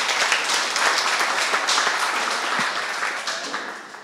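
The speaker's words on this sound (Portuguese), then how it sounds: "Uma salva de palmas mais uma vez." Steady applause from an audience at a community territorialization event in Taboão da Serra, dense clapping holding loud throughout and fading slightly toward the end.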